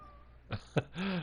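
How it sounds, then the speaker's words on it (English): A house cat gives two short, close chirps and then a longer, drawn-out meow, all quiet, with no talking. "my cat just announced his entrance"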